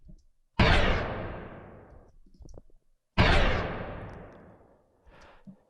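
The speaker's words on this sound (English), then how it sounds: "some sci-fi sort of door shutting down, power shutting down sort of sound" A sci-fi door and power-down effect from the video game Hyper Light Drifter: two heavy slamming hits, each trailing off in a long fading rush, with faint mechanical clicks between them.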